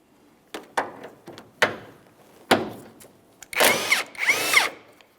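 A power tool spins out 14mm headed mounting bolts from the side engine mount bracket of a 2012–2015 Honda Civic 1.8L four-cylinder, with several short clicks and taps followed by two longer, loud rattling ratchet bursts up close.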